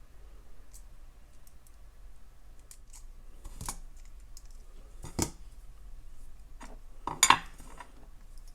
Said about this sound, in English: And snip off the excess.